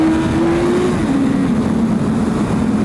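A Kawasaki Z1000 motorcycle pulls a power wheelie, its engine note loud and close, rising in a strong steady drone then shifting pitch as it accelerates hard, with no talking.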